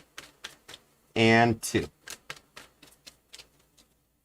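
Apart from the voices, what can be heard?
shuffling a tarot card deck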